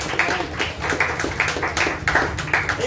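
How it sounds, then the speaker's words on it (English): An audience at a church sermon clapping hands in a steady rhythmic pattern of repeated bursts, moderately loud, filling the room with no speech over it. "Come on! Clap your hands for the"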